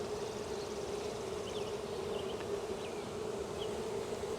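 A dense, steady drone of many honeybees buzzing from an opened beehive, close and continuous at a moderate level with no talk.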